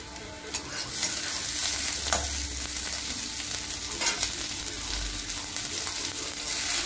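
Mushrooms with onion and green chillies are stirred in a frying pan, giving a continuous soft sizzle with occasional scrapes and knocks of the spoon against the pan, heard up close without speech.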